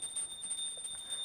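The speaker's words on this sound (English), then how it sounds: "please ring the bell as you do so." A small bell rings during a ritual water offering, a faint, thin, sustained ringing tone held steadily across the short moment.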